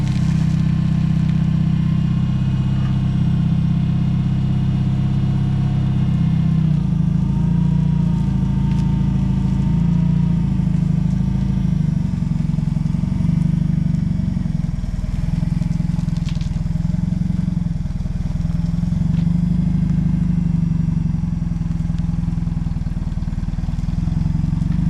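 Vehicle engine idling and pulling forward slowly while unloading a Bridgeport milling machine, a steady low rumble running continuously throughout at close range with no talk.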